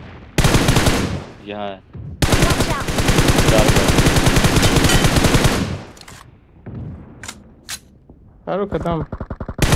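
Loud close bursts of automatic gunfire in the mobile shooter BGMI: two long sustained volleys, then shorter rapid bursts toward the end. Someone speaks briefly in between.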